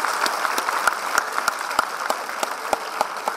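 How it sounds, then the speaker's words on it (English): Scattered applause from a small audience after a Pahari folk music performance, with individual claps standing out in a sparse, uneven rhythm, fairly close and moderately loud. "Let's give them another round of applause."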